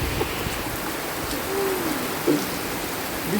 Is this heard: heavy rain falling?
yes